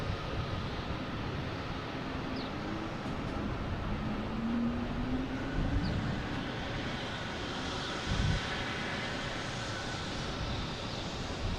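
Airliner engines rumble steadily at Boston Logan International Airport, a continuous distant roar with a faint rising whine, heard alone with no voices.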